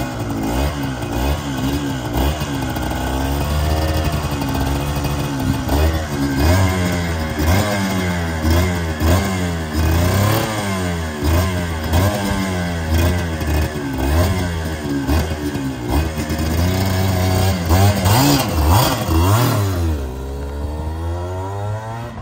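A 1992 Suzuki RGV250 two-stroke motorcycle engine revs up and down repeatedly, rising and falling pitch sweeps with a raspy buzzing tone, loud and close, settling toward idle near the end.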